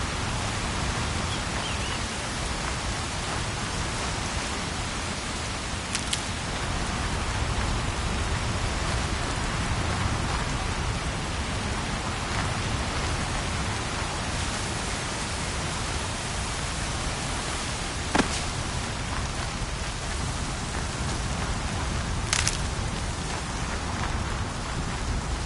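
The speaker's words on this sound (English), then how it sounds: "Air's heavy with rain." Rain falls steadily in Horizon Zero Dawn, a constant close hiss of drops on surfaces that runs unbroken for the whole stretch, with a few sharp ticks and no talking.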